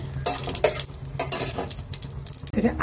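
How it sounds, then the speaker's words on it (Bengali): Dried red chillies and cumin seeds fry in a pan for vegetable khichuri, with an ongoing crackling sizzle, repeated scraping stirs and a few utensil knocks, close and steady, with no talking. "এই শুকনো লঙ্কা আর সাদা জিরেটা এই যে ভাজা ভাজা হচ্ছে"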